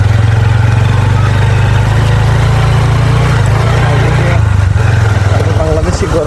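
A motorcycle engine hums low and loud throughout a ride on a small rural road near the hills east of Bichanakandi, droning steadily with slight shifts in pitch.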